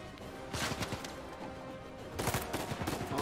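Rapid bursts of gunfire from a weapon in the video game Uncharted 4, played on Crushing difficulty, crackling in two dense volleys with a steady rattle in between.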